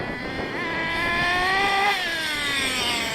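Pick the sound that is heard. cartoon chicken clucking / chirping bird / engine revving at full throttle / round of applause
engine revving at full throttle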